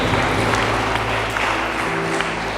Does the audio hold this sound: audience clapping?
yes